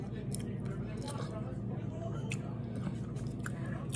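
A big Crumbl cookie is chewed near the microphone, with soft crunching and wet mastication under a steady low background hum.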